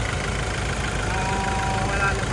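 A vehicle engine idles with a steady, close, continuous rumble that stays unchanged throughout.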